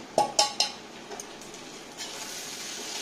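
Chira pulao of flattened rice being mixed in a pan, with three quick metallic clinks of a spoon against the pan followed by a soft, low stirring hiss.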